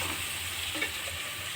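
Tomatoes and other food fry in a pan, giving a faint, brief, steady sizzle with soft stirring noises close by.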